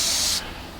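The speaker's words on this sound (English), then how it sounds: "You want to spray it at an angle" A close airbrush hisses steadily as it sprays Alclad paint, then cuts off abruptly partway through, leaving only quiet room tone.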